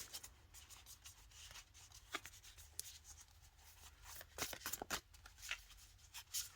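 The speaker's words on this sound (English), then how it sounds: "Let me pull another card." Oracle cards being shuffled by hand in a quiet room, a run of soft papery riffs and rubs building to several sharper flicks near the end, close and fairly faint.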